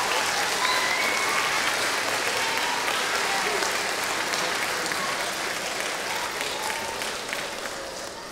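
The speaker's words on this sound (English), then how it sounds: "So can we have a big round of applause for all those children that join in the sports clubs and the teams?" Sustained applause from a school audience at a carol concert, a dense, steady wash of many hands clapping that holds for several seconds and eases off only slightly toward the end.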